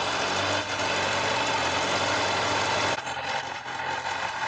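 A Kawasaki ZZR1100 motorcycle engine idles steadily up close during a restoration, a constant rumbling hum with a slight shift in tone partway through, and no voices.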